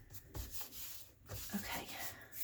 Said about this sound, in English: I like the texture of the way it feels when you use the glue stick.